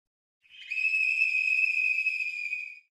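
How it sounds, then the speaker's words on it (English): A single shrill whistle blast holds steady for over two seconds, loud and clear against silence. "Blow the whistle."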